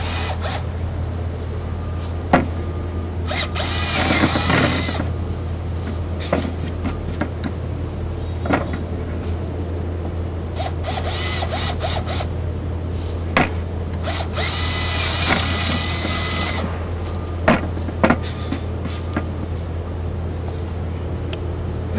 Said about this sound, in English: make another mark for where you're going to drill those holes through